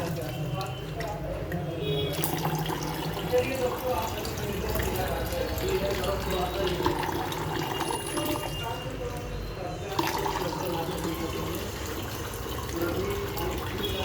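Water pours steadily into a pan of red sauce pasta during cooking, a continuous splashing run under a person talking.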